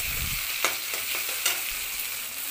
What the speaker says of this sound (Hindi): सारी सब्जी को हमने हल्का ही फ्राई करना है, डीप फ्राई नहीं करना है।